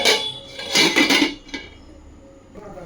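Lid set over a pot of rui fish curry, a cluster of close metallic clanks and clatter, then one lighter knock and quiet.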